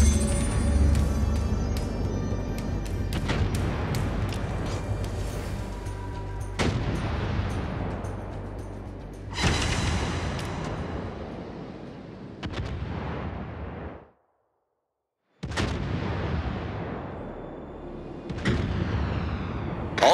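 Naval artillery from the battleship Vermont in a video game: about six heavy salvos boom one after another, each with a long rumbling decay, broken by a moment of silence before the guns fire again.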